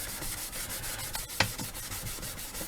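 Grey Scotch-Brite pad dipped in acetone rubbed over anniversary clock brass, a soft continuous scrubbing texture with faint repeated strokes and one brief sharper scrape, close and fairly quiet, no talking.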